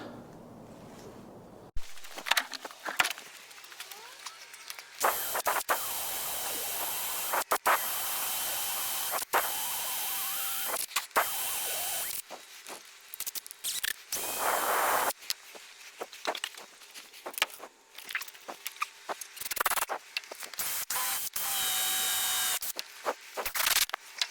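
Power driver screwing timber joists onto a steel beam in a house build, with repeated short whirring bursts between handling knocks and footsteps, fairly close and sitting over light background noise.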